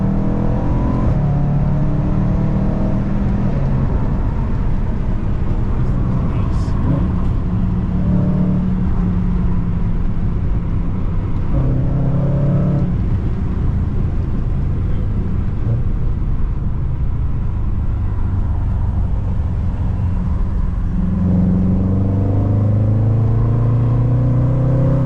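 A BMW F30 fitted with loud downpipes accelerates, producing a sustained, heavy engine drone that rises and falls through gear changes, loud and close throughout with no talking.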